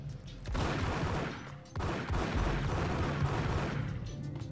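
Sustained gunfire in the video game Max Payne, a dense loud stream of shots with a short break near the middle before resuming, heavy and continuous with no talk.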